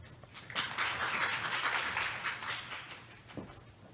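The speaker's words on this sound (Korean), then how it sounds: "마지막으로 강렬하고 격렬한 눈빛과 박수를 보내주시기 바랍니다" An audience applauds at an academic social impact forum, a dense wash of clapping that swells quickly, holds steady for a few seconds, then thins out and fades.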